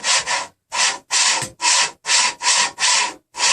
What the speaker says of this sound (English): you can just go ahead and kind of wiggle it around a little bit, like apply pressure to the MDF